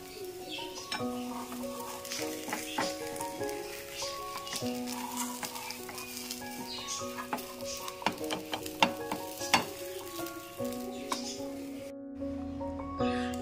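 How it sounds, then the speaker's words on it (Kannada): Thava fish frying in a pan gives a steady close sizzle with bursts of stirring and scraping, under layered background music, with no voice. "ಇದೇ ರೀತಿ ಇನ್ನೂ ಉಳಿದಿರೋ ಅಂಥ ಫಿಶಸ್ನೆಲ್ಲ ಇದೇ ರೀತಿ ಫ್ರೈ ಮಾಡ್ಕೋಬೇಕಾಗತ್ತೆ"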